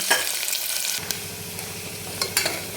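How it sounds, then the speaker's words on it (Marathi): Sliced onion dropped into hot oil for a Marathi-style mutton curry, giving a steady sizzle and frying hiss, with a couple of sharper clinks or stirring taps along the way. "एक मध्यम आकाराचा कांदा घेतलेला आहे, तो टाकून घेऊ"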